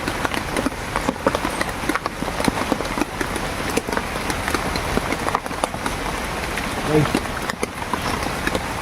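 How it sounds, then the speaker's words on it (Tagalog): Heavy rain falls steadily throughout as a dense, continuous patter, loud and close, with brief sharper hits scattered over the wash. "umuulan."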